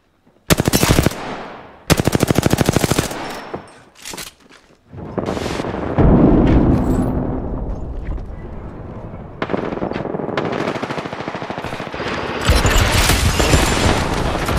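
Rapid automatic gunfire in a shooter video game, loud close bursts that start and stop abruptly, then sustained firing with booming impacts through the second half, no audible talk over it.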